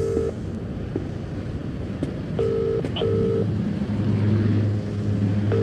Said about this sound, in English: it was a cop he was trying to ring, Detective Roberts